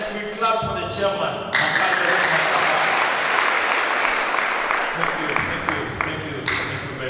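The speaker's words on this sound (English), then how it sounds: "And then we clap for the chairman." A crowd at a public lecture claps for the chairman. The dense, loud applause starts just after a voice and swells to a steady roar, with speech rising over the clapping near the end.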